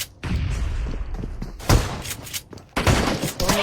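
Rapid bursts of gunfire from a shooter video game, loud and close, in several clustered volleys with short gaps between them.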